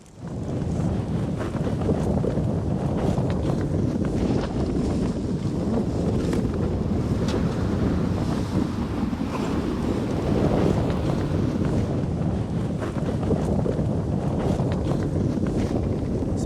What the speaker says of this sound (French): il y a 60 km/h de vent dehors.